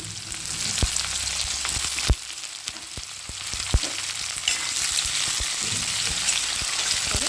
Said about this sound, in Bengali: এবার আলুটা কিন্তু একটু বেশ ভালো করে একটু সামান্য কালার ধরে ভালো করে ভেজে নেব।